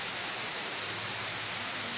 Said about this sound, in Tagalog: Umuulan ngayon. Bumabagyo.